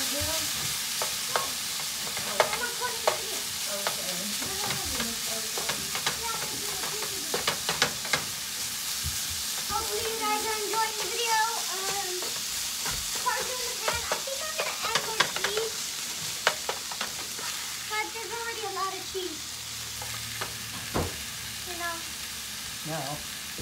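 Pizza toppings fry in a pan with a steady hiss and crackle, while a utensil scrapes and stirs at close range and people talk over it.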